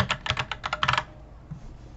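Quick, clicky typing on a computer keyboard, entering text into Server Manager on a Windows server. It comes as close, dense bursts for about a second, then stops into quiet room tone.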